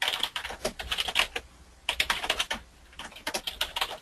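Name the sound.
someone typing on a computer keyboard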